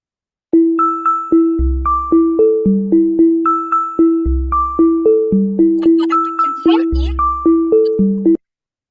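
Typatone app turning typed letters into musical notes: a steady, rhythmic run of bright chiming tones and deeper bass notes in a looping melodic pattern, loud and alone without talk.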